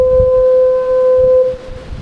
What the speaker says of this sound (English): for the third day the foghorn's going off